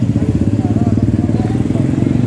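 Motorcycles idle and roll slowly past a COVID-19 checkpoint in Ambon with a loud, close, continuous engine rumble, while someone talks faintly over it.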